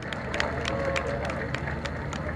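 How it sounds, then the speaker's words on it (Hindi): An audience at an Urdu conference applauds to welcome Humayun Saeed and Asim Azhar to the stage, a steady, dense wash of clapping and crowd noise with no pause. "एक बार भरपूर तालियों में इस्तकबाल कीजिए हुमायूं सईद और आसिम अजहर का"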